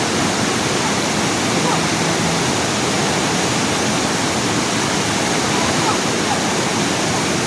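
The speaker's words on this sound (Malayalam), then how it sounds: "ആ പാറ പുറത്ത് കുറേ വെള്ളം ചാട്ടുന്ന സ്ഥലമാണല്ലോ" A loud, unbroken roar of the Kalarandi waterfall pouring over rock rushes continuously at close range, dense and hissing throughout.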